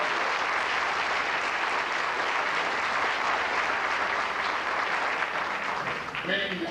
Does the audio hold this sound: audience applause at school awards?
yes